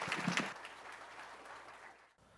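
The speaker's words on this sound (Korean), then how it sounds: "자, 큰 박수 부탁드립니다." Audience applause fills a hall at a construction-safety scholarship award ceremony, a steady wash of many hands clapping that holds for about two seconds, then briefly drops out before resuming.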